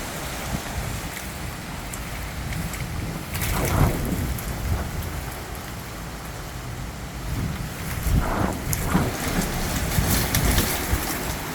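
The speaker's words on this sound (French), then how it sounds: "Oh, il grêle, les amis." Hail falling during storm Nils in Bordeaux, with 124 km/h winds: a dense, continuous rattling patter on surfaces that swells into louder bursts around a few moments, with gusty noise underneath.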